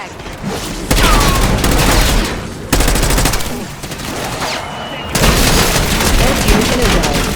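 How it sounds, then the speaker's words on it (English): Gunfire and a frag grenade blast in Call of Duty Zombies, with dense rapid bursts of automatic fire cutting in and out over heavy booming rumble, loud and close. "Throwing frag!"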